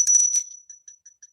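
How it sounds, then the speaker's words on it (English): A small vintage glass bell with a diamond optic pattern and a glass clapper rings in a quick flurry of bright, high strikes, then gives a few lighter, spaced tings as it settles. The sound is close and clear, with no talk. "It is a small bell."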